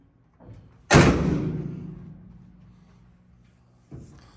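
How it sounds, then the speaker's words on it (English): A car door on a body freshly remounted on its frame opens with a single loud clunk and a metallic ring that fades slowly, followed by a softer knock near the end. "But first time I'm opening the door with the body on the frame."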